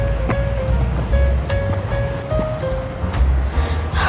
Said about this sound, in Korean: 저기에는 파도 소리랑 엄청나게 많은 파도가 몰려오는